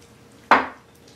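Tuna noodle casserole with coconut cream being stirred in a pan, a single short scraping clatter of utensil against cookware, close and moderately loud, then quiet.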